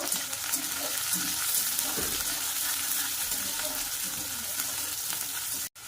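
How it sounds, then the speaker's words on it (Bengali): Cubed onions fry in hot oil in a pan, a loud continuous sizzle with occasional stirring scrapes throughout, ending with a short dropout. "দিয়ে এবার একটু লাল লাল করে ভাজা করে নেব"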